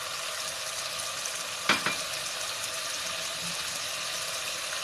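Korma masala, cumin-coriander powder and garam masala fry in a pan for chicken korma, a steady soft sizzle with one brief clatter of stirring near the middle.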